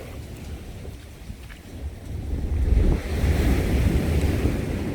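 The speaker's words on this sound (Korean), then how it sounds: "파도가 쳐서 여기까지 막 넘어오네요." Sea waves crash against a breakwater at Josa-ri, Pohang, in rough surf, a continuous loud roar swelling near the end with heavy wind buffeting the microphone and no speech.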